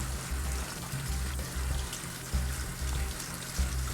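Cold tap water runs while dyed hair is rinsed, a steady splashing, trickling flow with soft rhythmic pulses and small surges, close and fairly quiet, with no talk.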